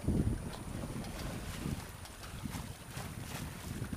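Steady wind gusting at about 15 knots while sailing a boat off the Mediterranean coast between Porquerolles and Cap Taillat, a broad roaring rush with low rumbling buffets against the microphone and faint water noise, no voices.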